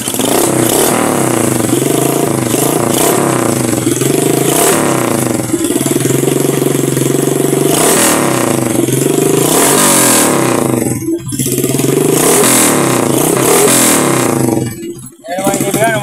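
A motorcycle engine runs loud and close with a steady rough drone and occasional revs, dipping briefly twice near the end, while people talk over it.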